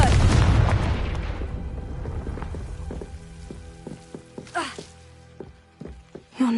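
The Confringo spell from the video game Hogwarts Legacy bursts in a loud, deep explosion at the start, its rumbling crackle fading over several seconds and leaving quieter scattered pops and ticks.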